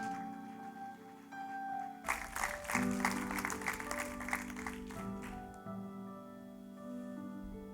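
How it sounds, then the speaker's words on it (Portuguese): Congregation applause in a church, a burst of many hands clapping that rises suddenly and fades after a few seconds, set against sustained organ-like musical tones. "Dá uma salva de palmas a esse Deus."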